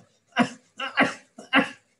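A person imitates a cough, producing three short, harsh, breathy bursts in quick succession, close and moderately loud.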